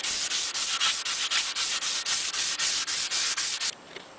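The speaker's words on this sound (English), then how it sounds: "with your fingers perpendicular to the stock itself. Sand like this." Steady back-and-forth strokes of a sanding pad worked by hand along a wooden gun stock, a dry rasping scrape repeating about three times a second, close and loud, then stopping abruptly near the end.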